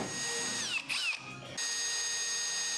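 A power drill bores a hole in a workshop panel that has a metal divider inside. The motor whines steadily and up close, its pitch dipping and rising as the bit bites in before it settles back to a constant hum.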